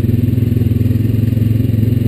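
A Honda Rancher 420 ATV rides along a farm trail past tobacco fields, its engine a loud, close, steady pulsing thrum with a fast regular throb and some clatter, no talk.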